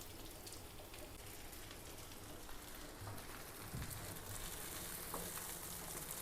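Food sizzles steadily in hot, frothing ghee, a dense, continuous crackle and hiss that stays close and fairly loud throughout, with no voices over it.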